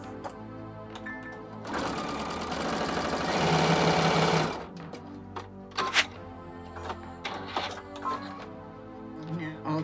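A sewing machine runs steadily for a few seconds, stitching binding fabric diagonally with a fast mechanical chatter, then stops; faint clicks and handling noises follow.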